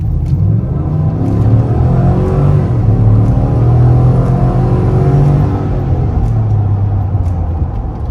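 A Cadillac Escalade fitted with a K&N cold air intake accelerating hard from 25 km/h: a loud, close engine roar that climbs through the revs, holds a deep rumble and then eases, with no talking.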